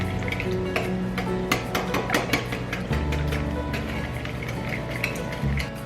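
Wet ingredients for blueberry muffins being whisked in a bowl, giving a steady run of light clinks and scraping taps close by, with no talking.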